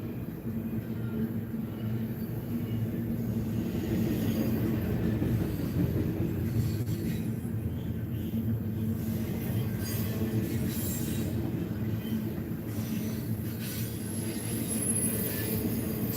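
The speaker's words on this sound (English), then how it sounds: "y'all know my train never fails to make its appearance" A train rolling past steadily nearby, a loud sustained rumble with rail clatter and wheel squeal laid over it, with no one talking.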